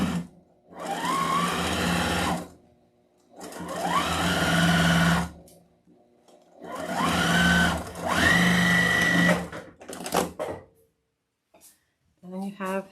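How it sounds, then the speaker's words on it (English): A sewing machine stitching across fabric for a sewn leprechaun wreath attachment, running in three long loud whirring bursts separated by pauses, close by, with a few short clicks and brief stops near the end. "And then just sew across."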